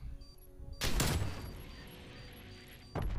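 Single sharp sniper rifle shot in a video game, a loud burst that fades into a short tail, followed moments later by the onset of another blast.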